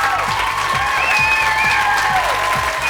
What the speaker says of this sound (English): Sarah Chalke, ladies and gentlemen. Let's hear it